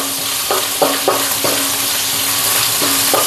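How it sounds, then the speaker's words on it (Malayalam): Curry leaves fry in hot oil with a loud, continuous sizzling hiss, close up, broken by a few brief crackling bursts. "കറിവേപ്പില ഇട്ട് കൊടുക്കാം."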